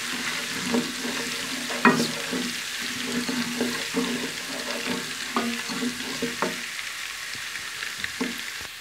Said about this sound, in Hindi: लहसुन को हम जो है अच्छे से ब्राउन करेंगे।